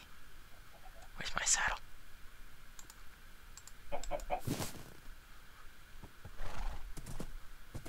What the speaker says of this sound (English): Good horsey.